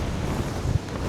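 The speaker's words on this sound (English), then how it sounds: "You probably can't even hear the wind because of the wind muff" Strong gusting wind buffets the microphone high on Wetherlam, a mountain in the Lake District, a loud, steady broadband roar with a few heavier low-frequency gusts and no voices.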